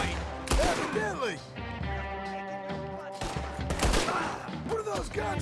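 Red Dead Redemption 2 gunfight with a dense, continuous crackle of overlapping shots under a busy mix of game music and effects, with voices talking throughout.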